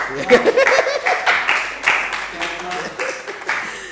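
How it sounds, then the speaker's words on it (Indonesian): Audience clapping in a burst of quick, uneven claps, mixed with some laughter and voices close by. "Tepuk tangan buat Stanley dulu."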